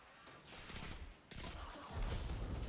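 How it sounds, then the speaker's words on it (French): Gunfire-like bursts and a blast in the video game Destiny 2, loud and dense with a sudden break and then a heavier low-end boom near the end, with no talk. "c'était quoi cette explosion là encore?"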